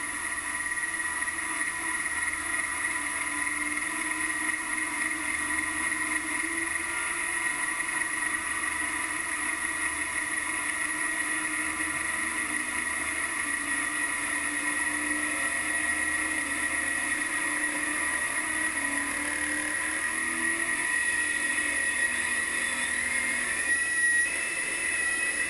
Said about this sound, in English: That loud shriek's the turbocharger.